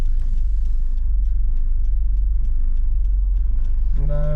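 Low, steady engine rumble from a car with roughly a 1 litre turbo engine, heard from inside while driving, continuous and close, with a voice starting briefly at the end.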